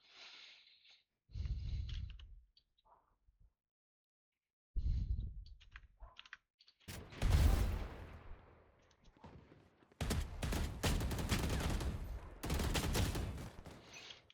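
Bursts of rapid gunfire in an aim trainer video game, several separate volleys of quick shots broken by short silences, with keyboard-like clicking mixed in.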